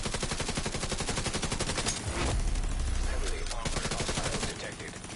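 Dense rapid-fire gunfire from a PvE video game, sustained automatic bursts with a heavy low boom midway, loud and continuous throughout.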